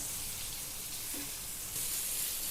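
Pomfret fish fries on a tawa with a soft, steady sizzle and faint crackle, quiet and close with no voices.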